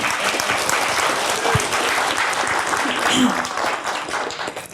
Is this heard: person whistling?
no